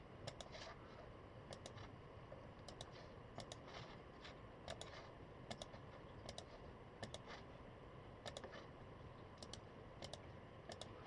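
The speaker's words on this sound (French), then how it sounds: "c'est parti pour taper le mot de passe" Someone types a Wi-Fi password on a keyboard during a Raspberry Pi 4 setup, producing soft, irregular clusters of key clicks with short pauses between them against quiet room noise.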